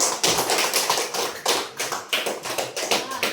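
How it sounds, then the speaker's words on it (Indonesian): Schoolchildren in a classroom clap for a group that has presented simple essays, a quick series of bright, uneven hand claps in bursts, close and loud. "Tepuk tangan dulu untuk kelompok esai sederhana"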